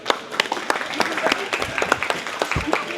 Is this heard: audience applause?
yes